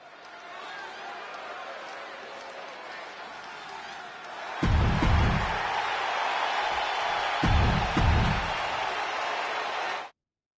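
A Chicago arena crowd cheers in the WWE 2K26 video game during a CM Punk versus Eddie Guerrero match, a continuous roar that swells louder midway. Heavy thumps land in two clusters within the noise.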